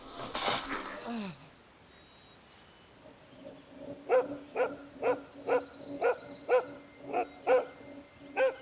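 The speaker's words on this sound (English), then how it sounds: "The barking of his dog woke him up some 20 minutes later." A dog barks repeatedly at a steady pace, about ten evenly spaced barks at moderate distance, after a brief quiet stretch.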